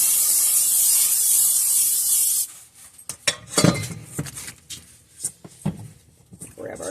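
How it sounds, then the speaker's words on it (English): A steady hissing burst of cooking spray into the bottom of a bowl for milk bread dough runs for a couple of seconds, then stops, followed by clattering knocks and scrapes of the bowl being handled. "You want to get your spray and spray the bottom of the bowl."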